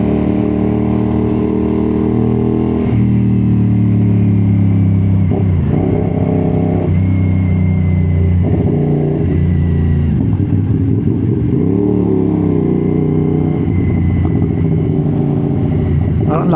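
A CFMOTO 450 SR-S motorcycle engine on a morning ride near Tagaytay, fitted with an SC Project exhaust, drones loud and close, rising and falling through revs steadily, with brief speech over it.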